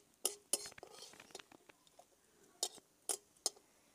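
A knife cuts green chillies, making a few sharp, scattered clicks and taps against a board or pan, quiet and close, with faint speech between.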